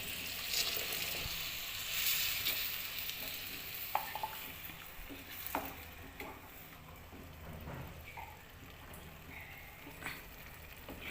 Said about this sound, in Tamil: இந்த கத்திரிக்காய் வந்து கொஞ்சம் நல்லா குக் ஆகட்டும்.